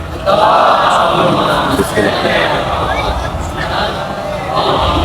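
A large mosque congregation at a memorial majlis chants salawat loudly in unison, a dense sustained roar of many voices that swells and holds across the whole stretch.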